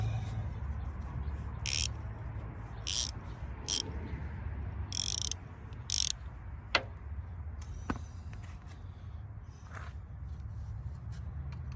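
A ratchet loosening a stubborn nut while pulling the 383 RB Golden Lion engine from a 1959 Chrysler, heard as several short, crisp ratcheting bursts at irregular intervals over a steady low hum, followed by a few faint ticks.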